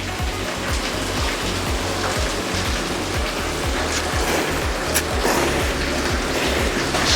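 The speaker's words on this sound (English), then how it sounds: "the rain is getting quite a bit wilder than I expected" Heavy rain falls outside in a steady, dense hiss with a wash of water noise and a low rhythmic pulsing underneath; no one speaks.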